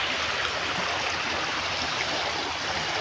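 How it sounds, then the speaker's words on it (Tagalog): Wide, flooded river rushing past, a steady dense broadband wash of flowing water close by, unbroken for the whole stretch with no voices. "Ayan, malapad na siya medyo yung ilog."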